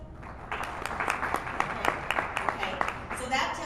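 Audience applause in a conference session, many hands clapping in a steady crackling wash that lasts through nearly the whole stretch, moderately loud and fairly close.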